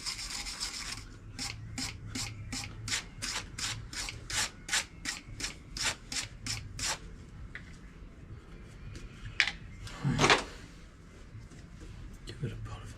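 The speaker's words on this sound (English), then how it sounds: "Give it a bit of a polish as well." Hand polishing or filing of a small part for a cheap Y2K Dyno GT bike repair, with a rapid run of rhythmic rubbing strokes for several seconds, then scattered scrapes and one louder rasp near the end.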